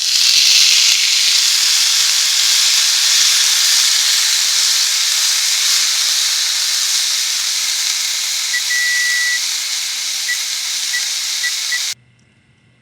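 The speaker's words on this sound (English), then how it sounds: "I preheated my grill pan for about 5 minutes, and then I am going to allow the steak to cook for about 5 minutes per side" Steak searing in a grill pan preheated for about five minutes, giving a steady, loud, close hiss that holds unbroken for around twelve seconds before cutting off abruptly.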